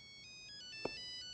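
A telephone rings with a steady electronic ringtone, a thin and fairly quiet repeating tone with one short click partway through.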